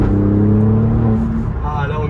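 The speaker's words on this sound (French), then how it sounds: "Ah là on entend les clapets qui se sont ouverts." Alfa Romeo Giulia GTAm with its exhaust valves open, engine note loud and close with strong low harmonics, the pitch shifting as revs change, while a voice talks over it.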